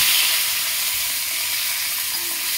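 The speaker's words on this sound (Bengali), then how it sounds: "এইবার মাছটাকে কড়াইয়ে ছেড়ে দেব।" Fish rubbed with salt and turmeric fries in a hot wok, giving a steady, loud sizzle that fills the whole stretch with dense crackling and no voices.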